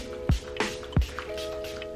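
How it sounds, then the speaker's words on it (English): Face mist sprayed from a bottle of Luxe Hydrating Self Tan Water, heard as a few short, close, soft bursts of spray separated by brief pauses. "I'm gonna spray my face with the Luxe Hydrating Self Tan Water"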